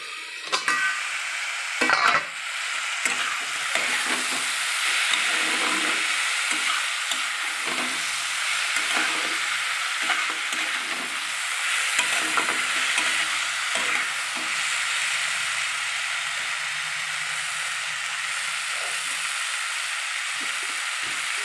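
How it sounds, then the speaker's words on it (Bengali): A metal spatula scrapes and clanks in a pan as frying food sizzles steadily, with repeated irregular stirring strokes over a long stretch of constant hissing close up. "রান্না করতে গেলে বন্ধুরা খুন্তি তো নাড়তেই হবে, আর খুন্তির তো আওয়াজ হবে"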